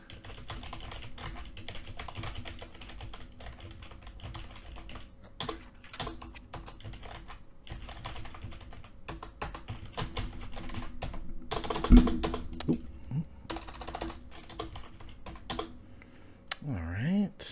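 Typing on a keyboard produces bursts of close, crisp key clatter with short pauses, fairly quiet against a steady room hum, with a voice speaking briefly.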